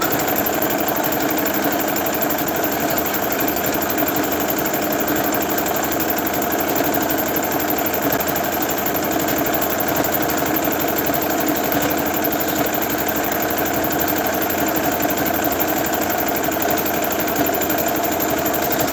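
A sewing machine running nonstop while stitching a custom pair of Crocs, giving a dense, steady mechanical whir that stays loud and close throughout, with no voices.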